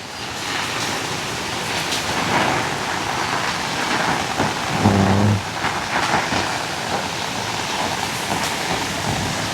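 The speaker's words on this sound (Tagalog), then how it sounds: "Lakas ng ulan." Heavy rain pours down during severe flooding in Eastern Samar, Philippines, in a dense, constant roar, with a brief low hum partway through; no voices are heard.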